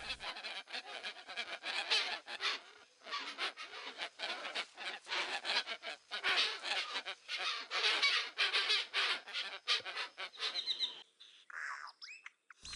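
A noisy nesting colony of caciques in the Neotropics gives a dense, continuous chorus of loud, overlapping harsh calls and honking notes, easing into a few sparser, clearer calls at the end.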